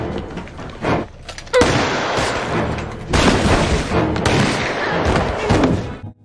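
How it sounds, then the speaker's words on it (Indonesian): Movie gunfire and booms in a dense, loud scene, heavy blasts and rumbling that run almost without a break over a film soundtrack, with brief dips between bursts. "namun Mikhail berhasil menembaknya juga"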